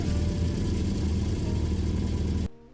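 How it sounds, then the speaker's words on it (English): The limited Mr. Bean car in the Greenville video game starts up, its engine idling with a steady low rumble loud and alone, cutting off abruptly near the end. "let's hear it start up"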